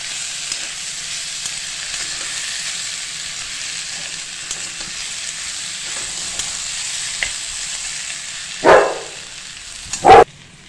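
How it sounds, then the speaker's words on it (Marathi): Potato vegetable sautéing with salt in a pan, a steady soft sizzle throughout, with two louder sharp scraping or clanking sounds near the end. "पुन्हा एकदा भाजी आपल्याला मीठ टाकून परतून घ्यायची."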